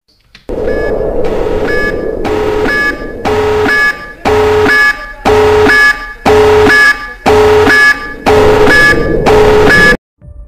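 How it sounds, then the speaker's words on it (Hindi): A warning alarm in an animated movie beeps in a steady run of about nine evenly spaced, loud electronic tones, each a short harmonic blast separated by brief gaps, with no talk over it. "ये तो वार्निंग अलार्म थी"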